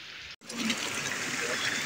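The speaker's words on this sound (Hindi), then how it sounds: "ये पानी आ रहा है जी, बिल्कुल साफ शफाफ पानी है।" Clear, cold glacier water flows through an old water channel in a village lane, a close, steady rushing trickle that briefly cuts out and then resumes at full strength.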